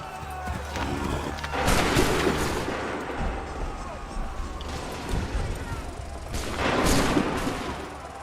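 Heavy cannon booms and crackling musket volleys in Assassin's Creed III roll out in two loud waves over a steady battle din, while voices shout over the barrage.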